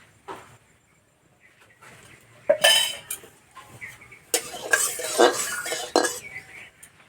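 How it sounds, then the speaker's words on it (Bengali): A wok set down on a kitchen stove with metallic clanks and clinks, then mustard oil added, while an egg and brinjal dish is being prepared. Sharp bursts of clatter come in clusters, close and fairly loud, with no talk. "উনানে কড়াই বসিয়ে দিয়েছি, কড়াই দেবো সর্ষের তেল।"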